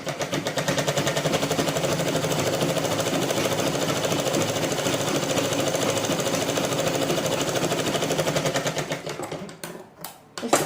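A sewing machine stitches a blouse belt in a long, steady, rapid mechanical chatter up close, slowing and stopping near the end with a few faint clicks.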